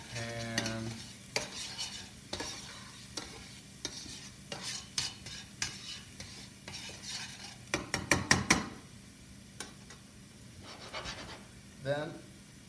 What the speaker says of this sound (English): you just want to stir these around, get a lot of that spawn off the pan